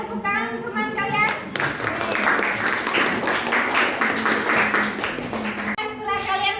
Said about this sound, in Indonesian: Tepuk tangan untuk teman kalian.